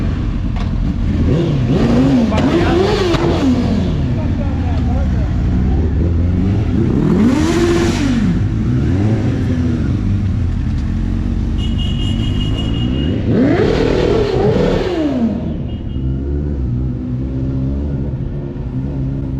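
A motorbike engine revs hard up close in a farmyard, rising and falling in three or four loud, drawn-out surges over a steady rumbling idle.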